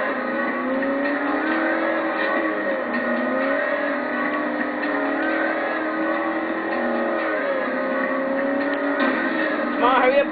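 A car driven in the video game Forza Horizon gives a steady, continuous engine drone whose pitch rises and falls with revving, with a brief rougher burst near the end.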